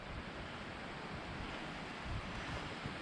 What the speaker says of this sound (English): We've got a nice river here.